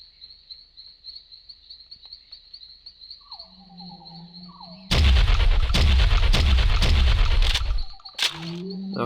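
A gun in the Jurassic Park Revolution video game fires a fast burst of rounds, a loud dense rattle of repeated shots lasting about three seconds after a quieter stretch of insect-like chirping and game ambience.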